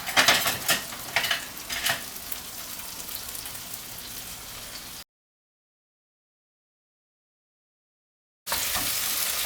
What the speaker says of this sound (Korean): 토마토는 오래 볶지 않아도 돼요.